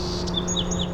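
A robin outside a house window gives a few thin, high chirps in quick succession over a steady background hum, fairly clear and close.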